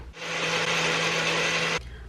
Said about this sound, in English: So now I'm gonna blend this together.